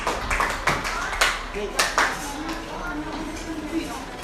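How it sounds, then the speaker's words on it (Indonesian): Brief burst of clapping from a classroom group applauding a student, scattered claps fading quickly, with voices heard around it. "kasih aplaus untuk Quinsa"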